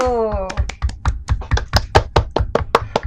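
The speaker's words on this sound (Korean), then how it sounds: "와, 박수." A small group claps at a steady, brisk pace in a Korean talk studio during a chat about travel in Vietnam. The clapping follows a voice that trails off at the start.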